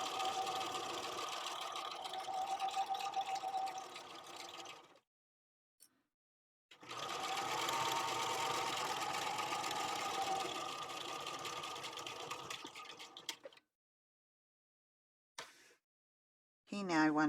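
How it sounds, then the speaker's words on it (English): Domestic sewing machine stitching a 1/8 inch seam on a duffle bag at 2.5 stitch length, running in two steady bursts of several seconds separated by short pauses, close and clear with no talk. "So now I'm going to sew across here using a 1/8 inch seam allowance"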